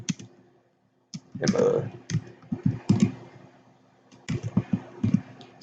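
Clicky computer keyboard typing in short bursts of keystrokes with brief pauses, fairly quiet, mixed with a voice speaking at the same time.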